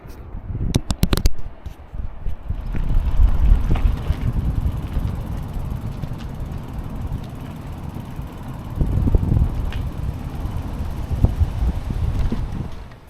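Strong wind buffets the microphone while riding near Giant's Causeway, Northern Ireland, a continuous loud low roar that surges and fades, with brief crackling bursts near the start.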